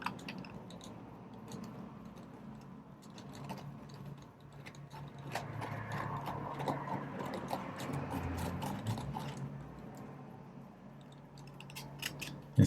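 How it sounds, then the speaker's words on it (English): Small needle file rasping against the metal of a tubular lock, a rapid scratchy back-and-forth that swells in the middle and eases off, close and moderately loud, no voices. "Wonder what a small needle file would do to this metal."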